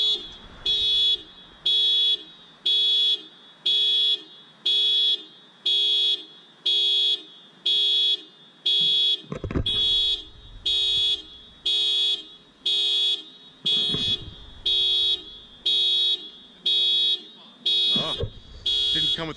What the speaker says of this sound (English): Didn't come with a key fob, so he unlocked it, and all of a sudden now it's honking on him.